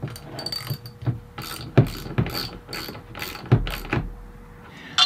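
A hand ratchet tightens the side caps back onto a pressure washer pump after new check valves go in, giving close, crisp clicking bursts in uneven strokes with short pauses between them.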